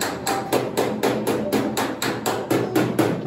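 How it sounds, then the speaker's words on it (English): Hammer and dolly flattening tack-welded steel on a Porsche 911 wide-arch bodywork repair, a fast steady run of sharp metallic blows, about three to four per second, loud and close with no talk. "Doing after every couple of tacks is getting my hammer and dolly."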